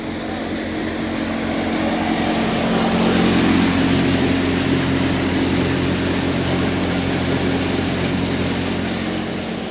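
A Preet 955 tractor idling free of load at 1100 RPM while driving a Param basket-model thresher for fennel, giving a loud, steady, unbroken engine drone with a low rumbling hum throughout.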